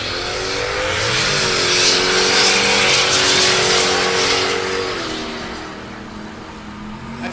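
Drag racing cars at Texas Motorplex in Ennis, Texas: loud engines roaring and revving hard down the strip, rising pitch as they accelerate and shift, then fading into the distance, with no voices over them.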